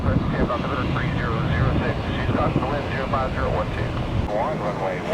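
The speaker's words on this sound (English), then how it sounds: "that's a pretty amazing blast off. It's making the 15-minute flight down to Fort Myers." Airliner taking off at an airport, a loud, steady engine roar filling the clip, heard from a spotting position with birds chirping faintly over the top.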